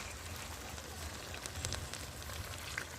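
Chicken frying in a pan gives a constant soft sizzle and crackle, a faint hissy texture with tiny pops, steady throughout without talk.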